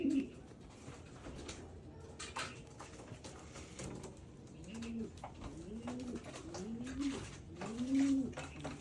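Pigeons coo outdoors after rain, soft rounded calls repeating at a moderate distance over a quiet background, with a faint voice now and then.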